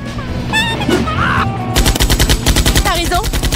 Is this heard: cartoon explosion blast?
yes